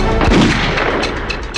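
A gunshot from a horror movie, heard as a loud, dense burst of blast-like noise that sustains across the short clip with no voices.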